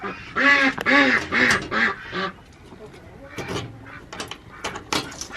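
Several ducks let out loud, close quacks in quick bursts, then fainter scattered calls and rustling follow as the birds move away. A voice speaks briefly near the end.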